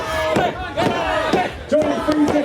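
A wrestling crowd chants and yells in loud rhythmic surges, the massed voices rising and falling in waves throughout the short stretch.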